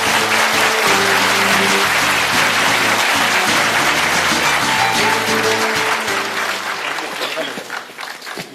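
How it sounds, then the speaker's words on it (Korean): A large audience at a lecture hosted by a small and medium business association claps loudly and steadily to welcome presidential candidate Moon Jae-in, the dense applause fading slightly toward the end. "귀한 시간 내주신 문재인 후보님을 큰 박수로 모시겠습니다."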